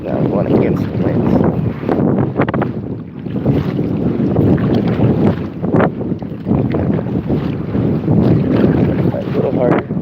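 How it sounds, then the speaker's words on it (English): Strong wind blasts across a microphone while kayaking upstream against the wind, roaring steadily and loudly throughout with gusty swells, and faint water and paddle sounds underneath. "now I'm going against the wind."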